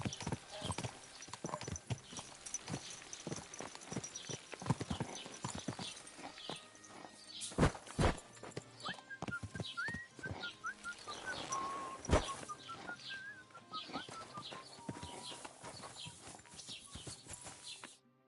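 Steady clip-clop of horse hooves walking at an even pace in the video game Kingdom Come: Deliverance II, close and clear, with a faint whistle-like tone and occasional louder knocks.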